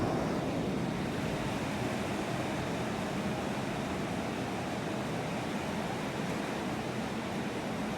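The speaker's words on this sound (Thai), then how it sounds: "นี่ฝนก็ตกอยู่นะครับ" Steady, dense hiss of heavy rain pours continuously outside, unbroken and fairly loud throughout.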